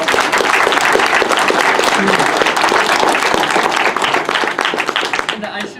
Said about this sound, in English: now, applause for Matt Vancel because he started all this